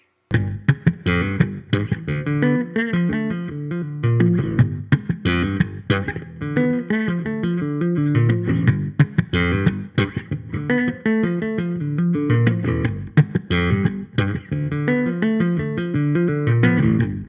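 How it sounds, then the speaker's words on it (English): A funky bass guitar line with percussive slapped and popped notes, then quicker tapped runs, played alone and steadily without any talking. "we have a slap line for one measure, and then we have a tapping line"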